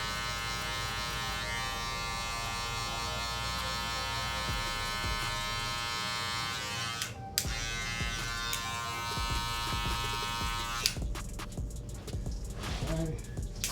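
A Saber trimmer buzzes steadily through a taper haircut, close and continuous with a bright whine, shifting pitch as it works through hair, with a brief pause and clicks of handling near the middle.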